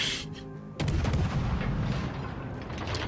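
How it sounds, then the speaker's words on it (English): Heavy naval gun salvo in World of Warships Legends fired at the battleship Nelson, a deep booming blast that rolls into a long rumbling tail, loud and alone. "Alright, we'll do some shooting at this Nelson."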